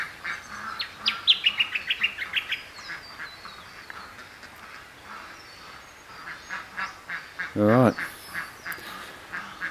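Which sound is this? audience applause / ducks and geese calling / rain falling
ducks and geese calling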